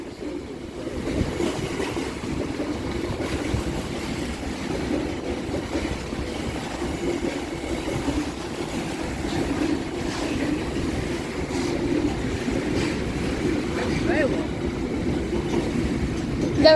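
Freight train passing on the railway at Mount Pleasant level crossing in Hampshire, a continuous heavy rumble and clatter of wagons rolling by close and loud, building slightly toward the end, with no talk.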